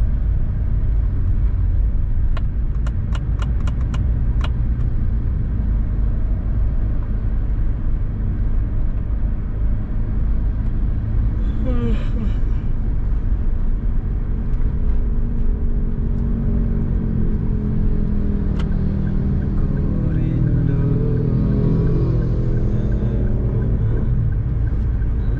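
Traffic on a city street in Batam rumbles steadily and loudly, with passing vehicles including a city bus, occasional clicks and a brief high whine mid-way, the low road noise continuing throughout.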